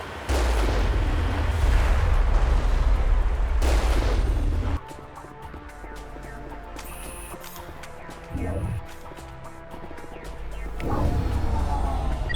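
Artillery in Mass Effect pounds in heavy, rumbling volleys that fill the first few seconds, then fade to scattered distant booms and crackling under a musical score.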